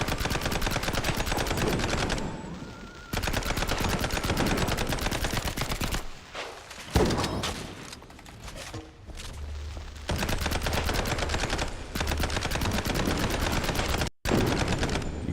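Rapid gunfire from the Mouse P.I. For Hire video game, bursts of fast repeated shots broken by short pauses and quieter gaps, loud and close throughout.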